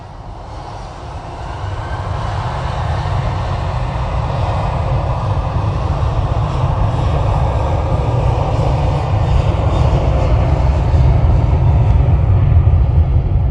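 An airliner departing Manchester Airport for Venice roars down the runway on a gusty day, a loud broadband engine rumble that builds steadily and holds strong throughout, with no voices.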